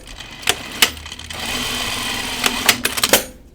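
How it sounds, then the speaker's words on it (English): A sewing machine stitches the center front seam of pajama bottoms, running in a steady whir through the middle and broken by sharp clicks and clunks at the start and end. "I'm going to sew my center front seam"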